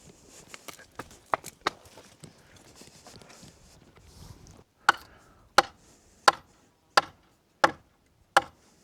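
Sharp wooden chopping strikes, a quick irregular flurry early on, then six loud, evenly spaced axe blows ringing out close by.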